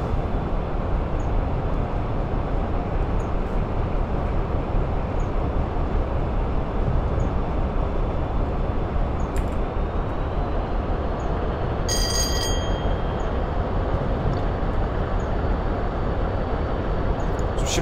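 A Class 47 diesel locomotive hauling an intercity train in Train Simulator 2018 rumbles loud and constant with wheel and rail noise, plus a brief metallic clatter partway through and no talk.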